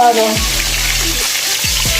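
Milkfish frying in palm oil in a pan, a loud steady sizzle with crackling spatters close by, and a brief voice near the start.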